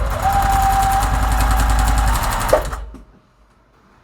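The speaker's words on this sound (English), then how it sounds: "I'm just going to sew a straight line" A sewing machine stitches a straight seam on a quilt block, a loud, steady rapid mechanical hum for about two and a half seconds before stopping abruptly, leaving near silence.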